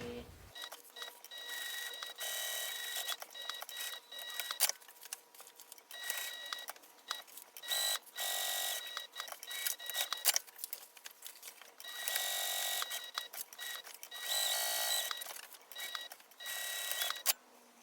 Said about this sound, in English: I will backstitch at the beginning and the end of all of these stitches